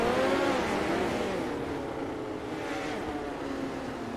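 Midget race cars at the Chili Bowl dirt track, engines droning in a steady, moderately distant roar with rising revs early on, blending into a continuous wash of motor noise.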